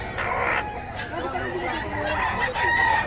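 A rooster crows briefly amid a noisy crowd, with clucking and people chattering close by.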